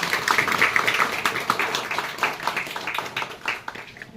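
Audience applause at an event with Delhi Legislative Assembly officials and guest teachers, a dense patter of claps that swells and fades over four seconds with no voices on top.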